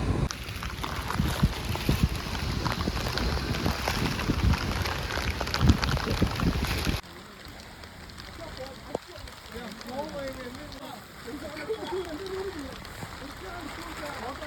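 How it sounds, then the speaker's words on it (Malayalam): Steady rain patters heavily for the first half in the hills of Nelliyampathi, then the scene shifts to softer rainfall with a person talking over it. "നെല്ലിയാമ്പതിയിൽ നല്ല മഴയാണ്"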